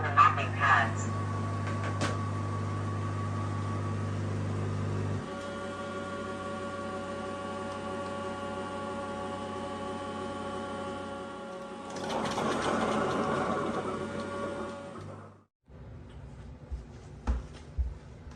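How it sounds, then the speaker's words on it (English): An Ecovacs OMNI X1 robot vacuum washes its mopping pads in its base station, producing a steady mechanical hum with a sharper scrubbing surge partway through, followed by quiet clicks at the end. "Start cleaning the mopping pads."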